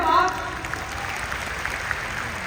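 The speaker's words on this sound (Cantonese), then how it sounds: "俾啲掌聲我團隊係嘛？" An audience gives a team a round of applause at a company honours event: a dense, steady clapping wash that sits under and after a brief voice at the start.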